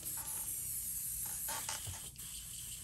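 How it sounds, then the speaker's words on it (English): Candy paint is sprayed onto a custom fishing lure, making faint, airy hissing bursts that come in short pulses and pauses in a quiet room. "And I'll spray it first."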